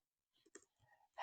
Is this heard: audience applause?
no